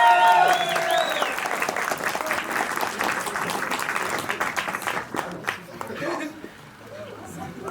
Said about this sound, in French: s'il vous plaît, un tonnerre d'applaudissements pour Lucie et Marine.